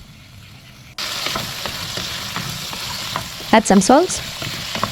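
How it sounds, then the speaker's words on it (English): Potatoes frying in a little oil in a pan and being stirred, a loud hiss starting abruptly with scraping stir noises, and a voice speaking briefly over it near the end. "Pour in some little oil for it to fry. Stir in the potatoes."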